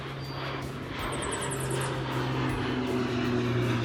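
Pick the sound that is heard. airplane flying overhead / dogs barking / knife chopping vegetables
airplane flying overhead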